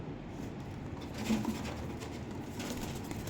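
White pigeons coo softly in a quiet spot, low murmuring calls with faint shuffling and patter in the background.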